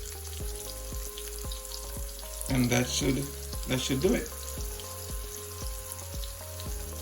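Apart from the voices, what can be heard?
shrimp frying in oil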